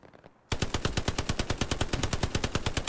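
Machine gun fire in the WWII shooter Hell Let Loose, a sudden loud, close burst of rapid evenly spaced shots after a quiet moment, firing steadily without pause.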